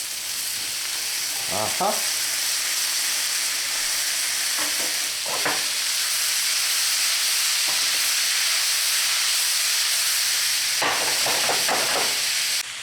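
Potatoes land in a hot pan and fry with a steady, bright sizzling hiss that runs throughout, broken by a few soft stirring scrapes and a brief murmured voice.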